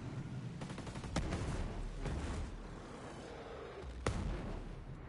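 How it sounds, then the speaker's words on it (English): Mortar fire in the video game Ghost Recon Breakpoint, with sharp impacts at about one, two and four seconds over a dense, rumbling battle background of gunfire. "Mortars again."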